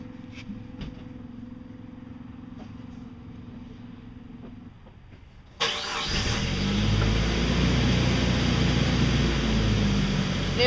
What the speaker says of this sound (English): Alright, you can start your car.